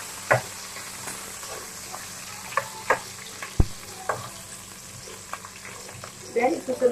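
Onion frying in oil in a home kitchen pan, soft steady sizzle punctuated by several sharp clicks and stirring knocks, with faint speech at moments.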